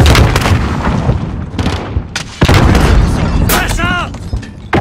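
A grenade goes off in a shooter video game with heavy booming blasts amid other gunfire, loud and close, while players talk over the action.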